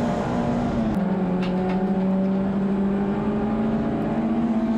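A race car engine drones steadily at high revs at Castle Combe circuit, a sustained loud whine that shifts pitch slightly as a Peugeot and Clios hold close on track.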